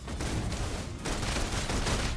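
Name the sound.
gunfire in video game Love and Deepspace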